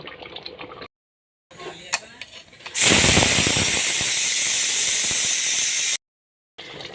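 A pressure cooker whistle blasts steam while cooking potatoes, a loud sustained hissing jet of about three seconds that stops abruptly, framed by quieter kitchen clatter and brief silent gaps.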